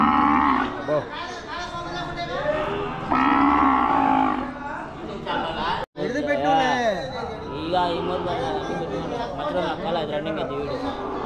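Cattle at a large livestock market in Kodad, Telangana, with occasional moos and animal noises close by, heard beneath steady conversation and crowd chatter.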